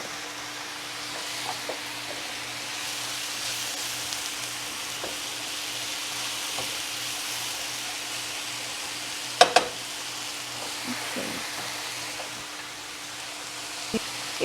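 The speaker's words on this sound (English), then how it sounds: "And I will let simmer the turkey mix." A turkey mix with tomato paste simmers in a pan, giving a steady, soft sizzle with faint bubbling and an occasional light clink of a utensil, and no voices.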